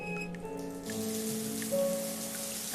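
Shower water running in The Last Door video game, a steady hissing spray of falling water with faint drips and a soft tone, continuous and fairly close, no talking.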